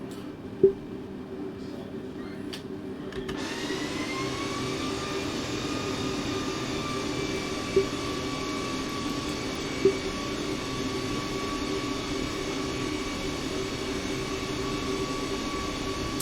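Gulf Air Airbus A320 jet engines idling while taxiing to the gate in Microsoft Flight Simulator, a steady whine and hum that settles after a short spool-up, with a few faint clicks.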